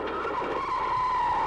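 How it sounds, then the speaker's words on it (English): A car skids as the driver loses control, a sustained tire squeal with a steady pitch lasting about a second and a half over engine rumble. "And this driver loses control of the car."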